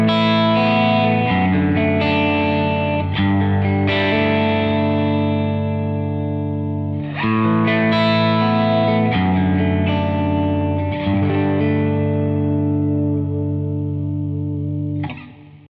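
Electric guitar run through the IK Multimedia Amplitube 5 amp simulator with the treble raised, playing steady sustained chords in phrases with light distortion and chorus-like effects, loud and close with no talking.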